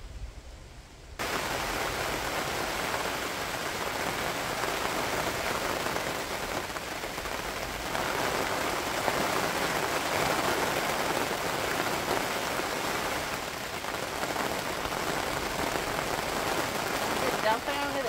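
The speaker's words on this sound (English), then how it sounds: "Oh, I hear rain." Steady rain hisses continuously for the whole stretch, a dense even patter on surfaces, with faint voices occasionally beneath it.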